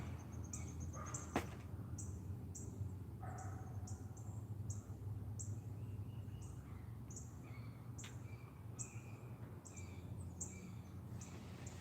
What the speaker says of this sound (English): Y'all hear the hawk?